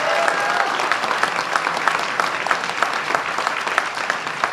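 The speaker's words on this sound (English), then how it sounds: "let's give A&R Solar a big round of applause" An indoor audience at a campaign event inside a solar company's workspace claps steadily, a dense, sustained round of applause from a sizable crowd with no one speaking over it.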